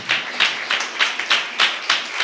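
A church congregation claps in unison to give thanks to God, about eight loud, evenly spaced rhythmic claps, with no voices over them.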